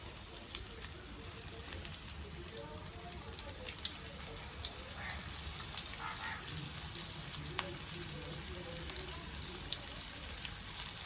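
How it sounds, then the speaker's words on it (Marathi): A stuffed pomfret fries in very hot oil, giving a steady, even hiss and crackle that runs faintly through the whole stretch without pause, with no voices heard. "इथे कडकडीत तेल तापलंय. आपण हा पापलेट सोडूया आता त्याच्यामध्ये."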